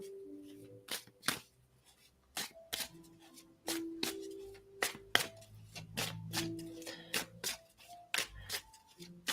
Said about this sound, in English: I'm going to pull a card for you